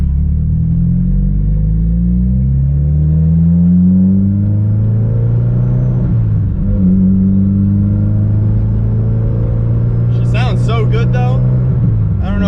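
Mitsubishi Evo with a brand-new engine idling steadily and smoothly, a loud close-up low rumble with slight pitch shifts, partly under a voice.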